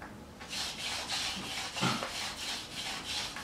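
A hand drill spindle twists back and forth against a wooden hearth board, giving a quiet, rhythmic rubbing rasp in short regular strokes, close by with no talking.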